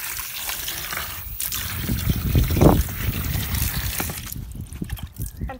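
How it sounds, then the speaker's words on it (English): Water trickles and sloshes as a rabbit litter tray is rinsed out, with a louder gush in the middle followed by quieter dribbling as the flow tapers away. "So next you want to just rinse out your litter tray."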